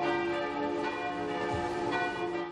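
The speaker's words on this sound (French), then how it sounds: "les cloches retentissent." Church bells ring steadily and loudly after a bomb disposal operation, their overlapping metallic tones sustained without pause throughout.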